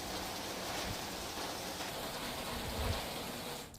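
Heavy monsoon rain pours down in Malpur, Aravalli district, Gujarat, in a dense, constant hiss, loud and unbroken from start to finish.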